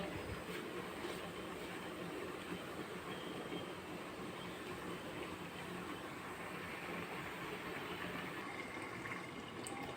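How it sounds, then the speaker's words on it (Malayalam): An electric mixer grinder grinds coconut for a sardine curry with kudampuli, a loud, steady whirring roar that runs unbroken and fairly close throughout, with no voices. "ഞാനിനി ഈ തേങ്ങ അരച്ചിട്ട് വരട്ടെ"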